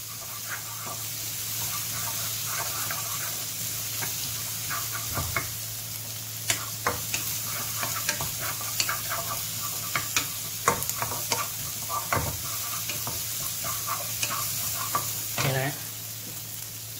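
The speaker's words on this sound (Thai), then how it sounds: "เทพริกกับกระเทียมนะครับลงมาผัดให้หอมนะครับให้หอมฉุน" Chili and garlic stir-frying in a hot pan for Thai basil shrimp, a continuous loud sizzle with frequent sharp spatula scrapes and taps against the pan over a low steady hum.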